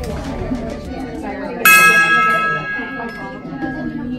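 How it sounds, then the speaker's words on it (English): A single gong strike rings out loud and sustained, its shimmering tone decaying slowly, with people talking before and around it on a tea room show. "See, much different than Erika, I have to gong once."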